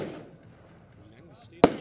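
A single sharp, loud bang from a Diamond brand firework goes off near the end of an otherwise quiet moment during a pre-season test firing.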